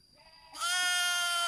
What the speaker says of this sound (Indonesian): Ini saya membawa contoh domba yang kurang bagus